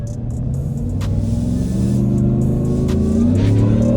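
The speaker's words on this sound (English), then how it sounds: "Did y'all hear the supercharger whine in the engine?" A 2023 Ford F150 Shelby off-road truck accelerates hard, its engine rumble climbing steadily in pitch with a rising supercharger whine, loud and close throughout.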